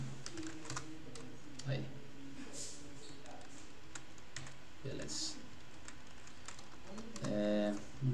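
Rapid, uneven keystrokes patter on a computer keyboard throughout, close and fairly loud, with a short spoken word near the end.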